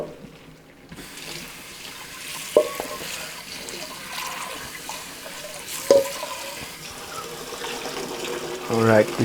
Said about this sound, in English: you should wash this with the water to get the excess salt off and also the excess starch.